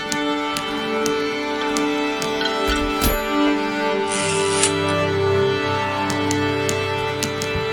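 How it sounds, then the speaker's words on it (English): Orchestra playing in a song, sustained strings and full ensemble chords holding steady and loud throughout, with a brief bright swell and a sharp accent partway through. "Oh, orchestra as well."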